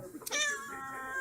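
A hungry cat meows once, a clear drawn-out cry close by, rising and then holding steady.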